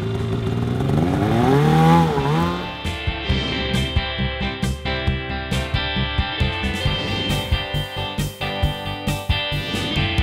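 A snowmobile engine revs and rises in pitch as the ride gets going, then settles into a steady close drone with rhythmic clattering bumps throughout.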